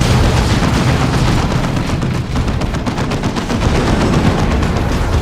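Gunfire in the video game Dawn of War 2: Chaos Rising, loud rapid bursts of automatic fire and heavier blasts layered continuously over five seconds, with no speech.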